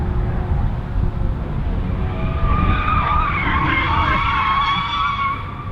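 A Toyota Cressida drift car skids loudly through a corner, tires squealing in rising, wavering tones over a steady engine roar, close and continuous.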